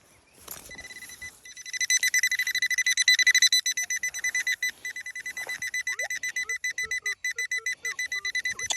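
A Minelab Manticore metal detector sounds its signal tone as the coil sweeps over a heavy target in the ground, a long run of rapid, evenly pulsed electronic beeps, close and fairly loud, with faint handling noises underneath.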